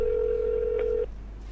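Phone call placed on speakerphone gives a single steady ringback tone lasting about a second, then cuts off, with low background hum and no talking.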